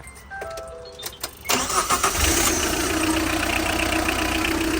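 The engine of a TATA ACE truck cranks and starts after a cylinder head repair, then settles into a steady, loud, rumbling idle. There are clicks and handling noises before it fires.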